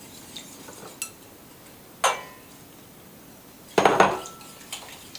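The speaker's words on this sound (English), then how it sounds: "And constantly whisk." Milk and cheese sauce being whisked in a metal pot: a few sharp, separate metallic clinks and scrapes spaced a second or so apart over a quiet background, with no talking.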